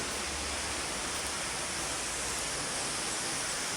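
Alalom Falls, a tall free waterfall in the Philippines, pours in a steady, dense broadband roar with no breaks, close and constant throughout and with no voices.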